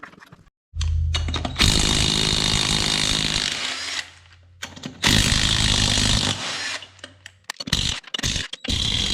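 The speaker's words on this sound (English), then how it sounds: "But I'll take this big nut off and see what's going on there." A power tool, likely an impact wrench, loosens a big nut on the wheel hub of a Hornet zero-turn lawn mower with a 25 hp Briggs & Stratton engine, running in two long loud bursts plus short close-up blips.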